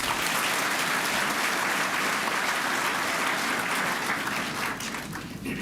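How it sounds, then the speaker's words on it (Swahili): A crowd at a Kenyan diaspora event in London claps continuously, broad and even, tapering a little toward the close, with no talk over it. "Mpigie makofi tena."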